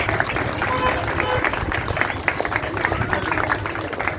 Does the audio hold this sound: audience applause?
yes